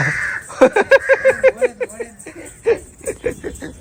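A crow caws repeatedly in a rapid series of harsh, loud calls close by, followed by a few more spaced caws.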